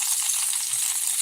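Close-up sizzling and crackling of mushrooms frying in hot grease on a stove, a steady bright hiss with tiny spitting pops.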